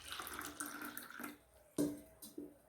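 Water is poured from a quarter cup onto urad dal, a soft trickling splash followed by a few short, sharper pours and drips, faint and close.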